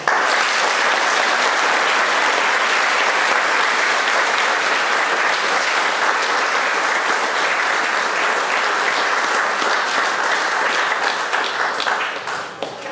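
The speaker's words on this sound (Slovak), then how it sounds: "Ešte raz poprosím o potlesk." Long, loud, sustained applause from parents and families at a school end-of-year concert for the school orchestra, dense clapping holding steady before tapering off at the very end.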